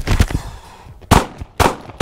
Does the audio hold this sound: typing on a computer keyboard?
no